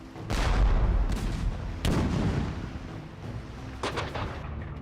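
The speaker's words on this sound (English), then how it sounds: "the British answer with a barrage only the world's most powerful empire could muster" British artillery barrage in the American Revolution: heavy booming cannon blasts, with a big burst at the start, another around two seconds in and a smaller one near four seconds, each rolling into a long rumbling tail.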